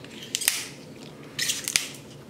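Shears trimming the outer leaves of an artichoke give two quiet, sharp snips about a second apart, heard close with no talk.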